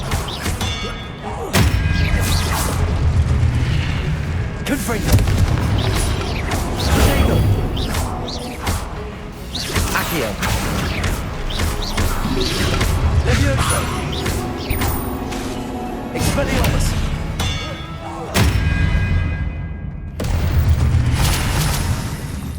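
Confringo explosion spell cast in Hogwarts Legacy, heard amid dense, continuous combat noise of booms, thuds and whooshes, loud and busy throughout with repeated impacts.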